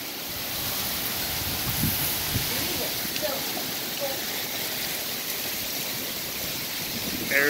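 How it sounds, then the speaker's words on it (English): Heavy monsoon rain and gusting wind in Phoenix, Arizona, a dense, steady roar of downpour filling the whole clip, close and loud, with no voices over it. "Oh my goodness, this is like hurricane weather."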